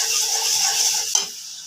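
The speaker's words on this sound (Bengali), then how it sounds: "এখন ভালো করে নেড়ে দেবো।" Chili, ginger and garlic paste being stirred in a hot pan gives a steady close sizzle with a scrape of the spoon near the end, loud and without talk.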